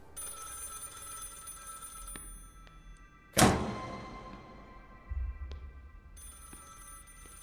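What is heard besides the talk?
phone ringing in Project Looking Glass video game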